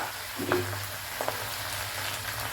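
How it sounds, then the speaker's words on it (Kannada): Spinach fries in mustard oil in a pan for a chicken gravy, giving a steady close sizzle with a few stirring scrapes and a low hum underneath, no talking. "ಪಾಲಕ್ ಸೊಪ್ಪನ್ನು ಇದಕ್ಕೆ ಹಾಕ್ತೇನೆ. ಇದನ್ನು ಫ್ರೈ ಮಾಡಲಿಕ್ಕುಂಟು."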